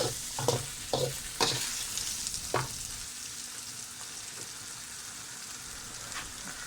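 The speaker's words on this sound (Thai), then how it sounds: "ค่อยๆเบาไฟแล้วก็คนไปเรื่อยๆนะครับ คนเบาๆ" Rice frying in a pan for Thai chicken rice is stirred gently, with a soft continuous sizzle and a few scraping stirs near the start, then a quieter steady frying hiss.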